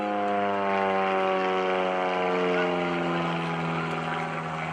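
An Extreme Decathlon aerobatic plane performs at an airshow, its propeller engine droning loud and steady with a strong, harmonic-rich growl that shifts slightly in pitch as it climbs, heard from a moderate distance.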